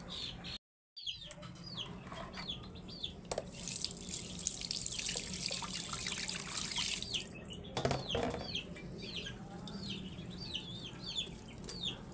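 Papaya juice is strained while making papaya atsara, giving a continuous faint trickle and splash of liquid, with chickens clucking and a rooster calling in the background.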